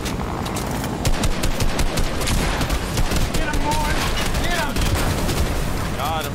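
Rapid gunfire from a Fortnite match, bursts of automatic shots crackling almost continuously and loudly, with excited players talking over the shooting.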